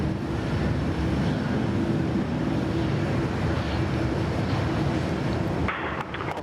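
A Boeing 787 jet airliner on runway 16 right at Sydney Airport makes a steady, loud, broad engine roar that holds evenly for several seconds before shifting and easing slightly near the end.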